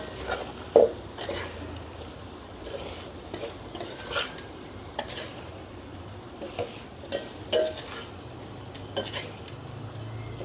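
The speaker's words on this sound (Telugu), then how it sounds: "ఇప్పుడు దీన్ని బాగా కలుపుకుందామండి." Masala spice powder being stirred into bitter gourd frying in a pan: a soft background sizzle broken by scraping and clinking utensil strokes against the pan at an irregular pace, with no talk.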